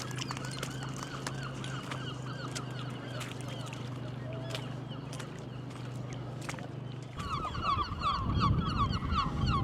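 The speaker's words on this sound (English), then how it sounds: "Seagull chorus." Gulls call repeatedly in a loose chorus over steady background noise at a British beach town, the cries growing louder and busier toward the end.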